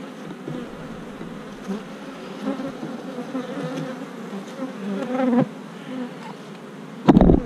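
Honey bees buzz continuously at the hive, a dense droning hum with rising and falling swells, and a louder close pass of a bee near the end.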